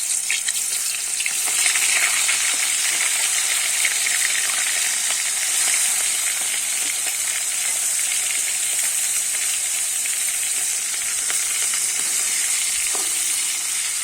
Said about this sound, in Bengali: এবারে ম্যারিনেট করা চিংড়ি মাছগুলো আমি দিয়ে দেবো।